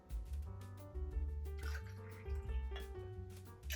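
Coconut rum poured for a cocktail shot, a soft gurgling trickle of liquid with small splashy drips, quiet and close, no talking.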